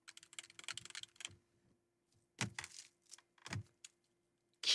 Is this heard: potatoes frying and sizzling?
no